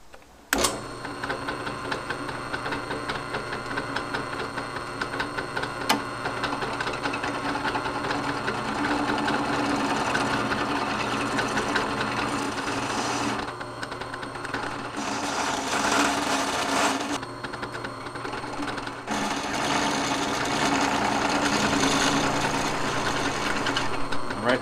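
A Forstner bit drills a counterbore into clamped metal on a Buell Cyclone motorcycle, with cutting oil on the bit; a steady, loud mechanical whir runs almost continuously, with brief dips in intensity partway through.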